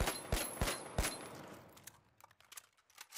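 AKM rifle fire in The Finals: four sharp shots in a quick, evenly spaced burst, then a fading tail of faint clicks and mechanical ticks, with no talking.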